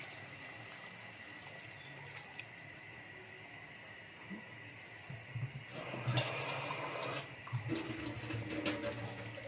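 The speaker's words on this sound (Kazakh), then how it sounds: "Қатты ыстық емес, салқындау су құямыз." Cool water poured from a container into a cooking pot while preparing dough for a chicken roll cooked in a kazan, a low steady watery run that swells louder and splashier in the second half.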